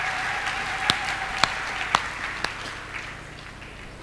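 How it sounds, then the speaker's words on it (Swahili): A church congregation claps in a few sharp, evenly spaced beats, about one every half second, then fades into low room hum. "makofi kwa sababu ya neno la Bwana Mungu."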